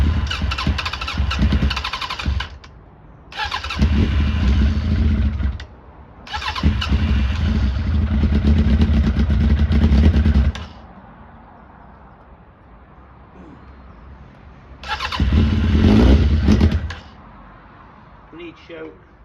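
A Suzuki Bandit 1200 motorcycle under restoration cranks and catches in several loud bursts, firing and revving for a few seconds at a time with quiet gaps between tries. Someone speaks briefly between the attempts.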